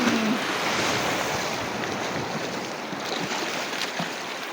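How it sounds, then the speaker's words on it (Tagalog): Sea surf washes continuously onto a beach at Paclasan in Roxas, Oriental Mindoro, a broad steady roar mixed with wind buffeting the microphone. "Wow, sarap ng alon."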